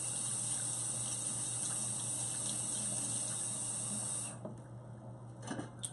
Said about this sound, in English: Alright, let's get some cold water running.